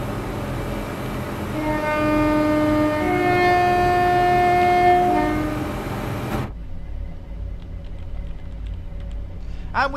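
A Southern Class 171 train on the Marshlink service to Eastbourne in Train Sim World 4 runs with a loud rumble and a rising then falling whine, which stops abruptly, leaving faint running noise.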